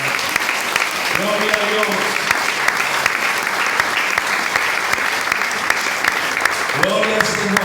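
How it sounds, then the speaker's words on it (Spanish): Church congregation applauding together, a steady dense wash of clapping throughout, with a voice speaking over it. "Denle un aplauso al Señor"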